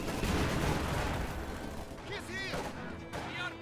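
Incendiary mortar rounds and gunfire crackle in a multiplayer strategy game battle, with dense overlapping bursts and booms. A commentator's voice runs underneath.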